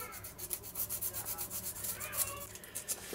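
Sanding with 120-grit sandpaper or abrasive cloth on an F3K glider wing to rough it up before gluing a throwing peg, a steady run of short rubbing strokes, close and fairly quiet, with no talking.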